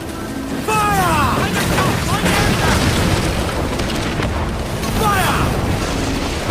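Ship cannons fire in a naval battle in the pirate game Assassin's Creed Black Flag, heavy booms rolling over shouted crew commands and creaking, with several blasts in quick succession.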